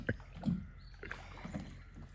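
Faint water sloshing and paddle knocks against a small boat hull, a few soft splashes in a quiet outdoor setting.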